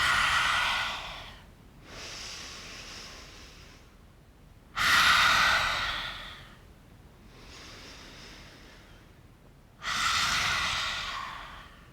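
Three forceful open-mouth exhalations of yoga lion's breath during a throat chakra flow, each a loud breathy rush separated by quieter inhalations, evenly spaced and close, with no talking.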